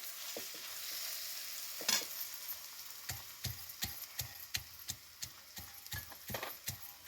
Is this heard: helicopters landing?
no